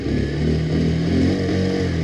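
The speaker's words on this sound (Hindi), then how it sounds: "तो सबसे पहले आप एग्जॉस्ट नोट सुन लीजिए बाइक का।" A 2022 Bajaj Pulsar 125 split-seat motorcycle idles nearby with a steady, even exhaust burble and no voices over it.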